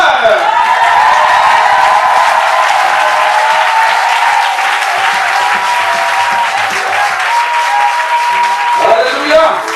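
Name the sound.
congregation applauding and cheering in church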